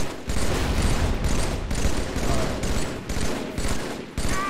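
Sustained automatic fire from a Halo 3 weapon rattles in loud, rapid bursts with brief pauses between volleys, close and dominant.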